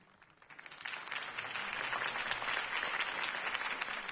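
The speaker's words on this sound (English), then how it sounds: "If only Mr. Wayne, my campaign's largest backer, could have heard that applause" Crowd applause in the Batman Telltale game, quiet at first, then swelling into steady, faint, distant clapping from many hands.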